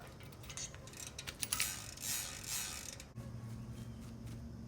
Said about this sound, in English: This is how the ratchet system works. It's just two ratchets that go against each other and spin.